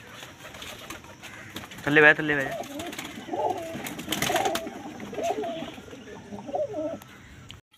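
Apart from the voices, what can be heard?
pigeons cooing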